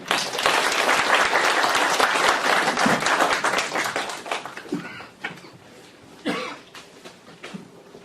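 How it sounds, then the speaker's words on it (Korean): A lecture audience at a philosophy colloquium claps warmly to welcome a speaker, dense applause that thins out, with a few coughs and throat clearing as it dies away. "큰 박수로 환영을 해주시기 바랍니다."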